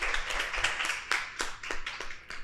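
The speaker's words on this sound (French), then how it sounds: "Applaudissez Passeus, s'il vous plaît." Audience clapping for a speaker at a political gathering, a short burst of loose, uneven hand claps close by.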